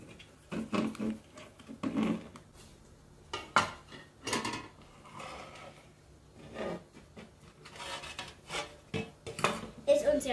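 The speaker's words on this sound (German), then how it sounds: "Nach 40 Minuten können wir unser Lamm endlich aus dem Ofen nehmen." A roasted Easter lamb cake in a metal baking tin comes out of the oven with scattered close clinks, scrapes and clatters of the tin and utensils, irregular and fairly quiet, while a voice speaks briefly at moments.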